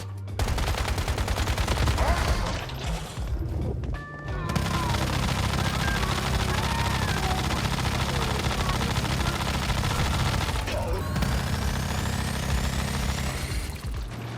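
Gunfire in the survival shooter game Once Human, a dense, continuous burst of loud close shots running almost the whole stretch, with a brief lull near the start and mechanical rumble underneath.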